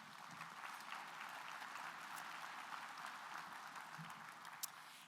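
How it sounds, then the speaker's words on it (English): Steady, dense applause from a luncheon audience honoring a Cub Scout pack and Scout troop color guard at a 2023 Good Scout Award event, sustained and even throughout with no talk over it. "Give them a great round of applause, everybody."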